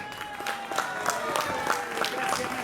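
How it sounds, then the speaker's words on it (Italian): Applause from an audience at an outdoor Sardinian festival, heard as rapid, fairly distant clapping that runs steadily throughout beneath someone speaking over a microphone. "non possiamo non dedicare un bello, ve lo chiedo, doppio l'applauso questa volta per Paolo Tola."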